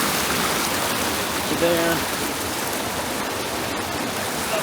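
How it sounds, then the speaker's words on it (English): Rushing river water, a steady broadband wash running throughout at close range, with someone briefly speaking over it partway through. "So I got down to the river."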